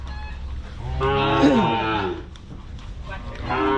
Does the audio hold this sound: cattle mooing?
yes